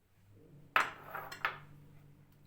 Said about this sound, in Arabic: ننزل بقى بنص كوباية الفول المدشوشة، يكون منقوع طبعا